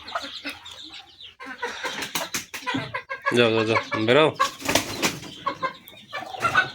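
Chickens cluck on a farm as chicks are let out. Their short, close calls rise and fall while a person talks loudly over them, shooing the birds.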